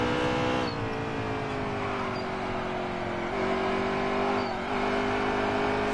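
Race car engine in NASCAR Heat 3 at ISM, a steady loud droning whine that holds high revs, dipping briefly at a few gear or throttle lifts before climbing again.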